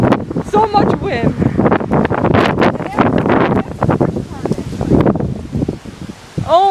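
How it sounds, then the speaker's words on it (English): Strong gusts during a wind storm roar and buffet the microphone in loud, continuous bursts, close up, while a person exclaims over the noise. "So much wind."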